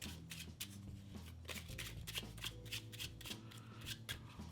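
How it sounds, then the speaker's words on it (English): A deck of playing cards is shuffled by hand, with quick repeated riffling bursts and crisp flutters heard up close over a faint low hum, with no talking. "give the deck a shuffle."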